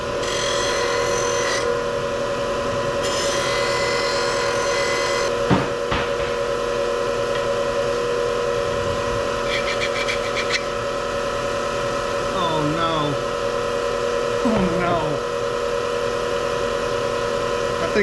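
A brass lamp pressed against a spinning grinding wheel gives a loud, continuous rasping grind over a steady motor drone, with short pauses and shifts in pressure and someone speaking briefly over it.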